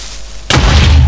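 A sudden booming burst cuts in halfway through and rumbles on to the end, loud and close: a creeper exploding in Minecraft.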